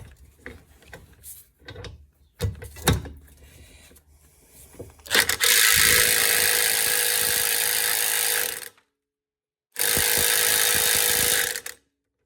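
Work on a shock absorber bolt in a Rover 75 rear suspension starts with scattered metallic knocks and clanks, then gives two long, loud whirring bursts of a power tool separated by a brief pause.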